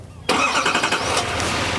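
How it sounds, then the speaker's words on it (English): A 2020 Chevrolet Silverado HD with a 6.6-liter diesel fires up by remote start: a sudden loud crank and catch after a brief hush, then a steady, fairly quiet idle with no talking. "And you can hear the truck starts right up for you."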